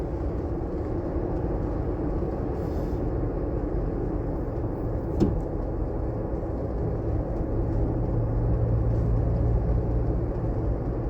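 A Ford Bronco rolls along a road with a steady low engine drone and road rumble from inside the cabin, holding even and unbroken the whole time.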